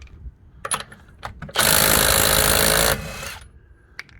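A Milwaukee M18 impact wrench with a 19 mm socket breaks lug nuts on a 2014 Hyundai Azera Limited, letting out one loud, sustained burst of hammering for about a second and a half, set between softer clicks and handling noises.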